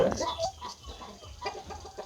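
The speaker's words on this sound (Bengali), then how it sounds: "এই মুরগি টাইগার মুরগি গরমে হচ্ছে হার্ড স্ট্রোক করে" Tiger chickens cluck in short, scattered bursts, soft and fairly close, with quiet gaps between calls and no clear voices.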